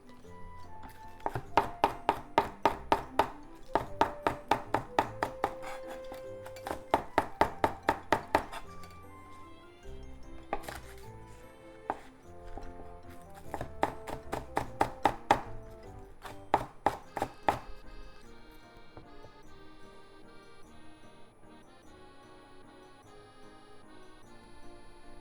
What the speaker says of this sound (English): let's finish it up with some sliced green onion